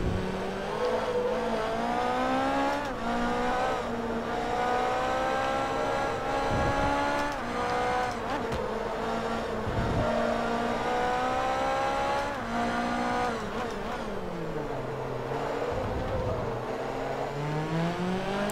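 High-revving race car engine in the driving game Forza Motorsport 3, during a Class R1 North America Tour race, a continuous loud roar rising and falling through gear shifts for the whole stretch, with no talk.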